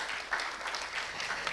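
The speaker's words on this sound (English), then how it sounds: "Warm applause for them." Audience clapping for debate participants at a university presidential mock debate, soft and fairly distant, forming a brief, even wash of applause.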